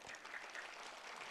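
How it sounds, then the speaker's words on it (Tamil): An audience at an arangetram dance performance claps together, a dense, steady burst of applause at moderate distance, continuous for about a second with no talk over it. "நல்லா தட்டலாமே ஒரே ஒரு தடவை."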